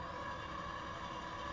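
A three-phase drill press motor driven by a variable-frequency drive runs steadily, a faint constant hum with a high electronic whine, close and alone.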